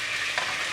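Grated garlic frying in a pan on a stovetop, a steady soft sizzle with a faint stirring scrape partway through, no talking.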